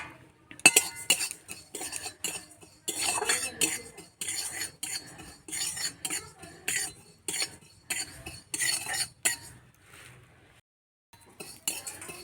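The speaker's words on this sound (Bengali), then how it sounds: "1 চামচ জিরে ভেজে নেব।" Cumin seeds dry-roasting in a pan are stirred with a metal spoon, giving repeated clinks and scrapes in uneven bursts, close and fairly quiet, with a brief faint voice among them.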